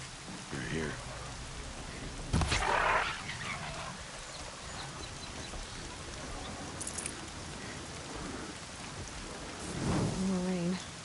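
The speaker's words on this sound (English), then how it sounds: "More rain." Rain patters steadily through the Horizon Zero Dawn video game world, a soft continuous hiss broken by a couple of louder rumbling bursts, with faint character voices and tones layered over it.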